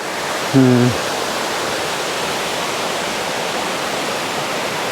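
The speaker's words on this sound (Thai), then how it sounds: "ได้ยินเสียงน้ำ น้ำตกน้ำไหล" Continuous rushing roar of a waterfall at Ban Mae Kampong, Thailand, steady and loud throughout, with a brief faint tonal sound near the start.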